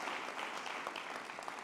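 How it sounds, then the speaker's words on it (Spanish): Audience at a mobility awards ceremony applauding finalist Oihana and the other finalists, a soft, steady patter of many hands clapping heard from a distance. "un aplauso a ella y a los otros 5"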